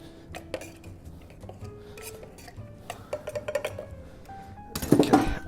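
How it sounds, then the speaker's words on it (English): Orange and lemon slices muddled in a cocktail glass for a cobbler drink, a series of close light knocks, scrapes and glassy clinks building to a louder burst of clattering at the end, no talking. "slice of orange, slice of lemon, give it a bit of a muddle"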